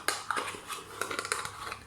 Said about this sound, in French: On remet la cuillère au sale parce qu'elle est sale.